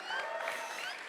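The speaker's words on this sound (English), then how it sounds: "big round of applause for SG again" Brief audience applause at a hip-hop talk and cypher workshop, a faint, soft patter of clapping from a modest crowd lasting about a second.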